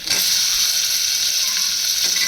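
A medium tomato sizzles steadily in a pan of onion and ginger garlic paste, a bright continuous hiss with a faint clack of the pan near the start and end.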